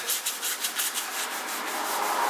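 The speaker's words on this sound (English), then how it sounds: "And I'm rubbing that in" Tru-Oil being rubbed by hand into a wooden guitar neck from a PRS-style kit, a close, soft rhythmic swishing of cloth strokes repeating several times a second.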